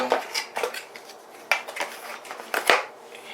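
Irregular scraping and clicking of epoxy being stirred and mixed by hand, short close strokes in uneven rhythm with brief pauses.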